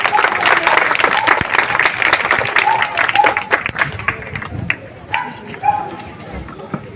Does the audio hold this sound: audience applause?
yes